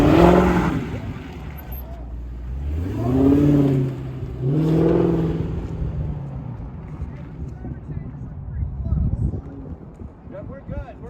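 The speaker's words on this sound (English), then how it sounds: "Both rounds of me doing my race car driving." A race car revs its engine through rising gear changes on a track, loud and close with rough rumbling between the climbs, while people talk over the engine noise.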